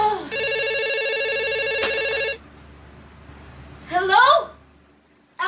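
A landline telephone bell rings in a steady burst for about two seconds, loud and close, then stops; a voice follows after a pause in a quiet bedroom setting.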